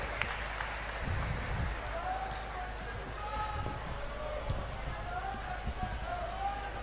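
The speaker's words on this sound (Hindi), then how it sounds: "जोरदार तालियों से स्वागत करें।" Steady applause from a crowd at an outdoor political rally in Dadri welcomes Punjab's Chief Minister Bhagwant Mann. The clapping goes on without a break under an announcer speaking through the public address system.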